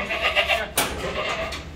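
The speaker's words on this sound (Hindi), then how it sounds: "100 किलो का बकरा है" Sojat goat with big horns, about 100 kilos, at a goat farm, giving a loud close bleat that rises into a sharp cry midway, with farm noise around it.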